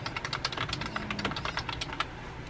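Quiet, quick typing on a computer keyboard, a steady patter of light key clicks with no voices.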